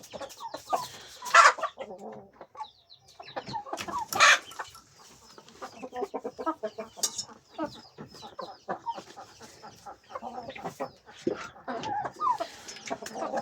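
Several Brahma chickens cluck and chatter close by for a long stretch, with sharp louder squawks now and then over a busy, irregular rhythm.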